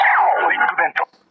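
A black recast CSM Drag Visor gauntlet toy from Kamen Rider Ryuga plays a trick card sound: a short, tinny electronic voice-like call through a small speaker, about a second long, then cutting off.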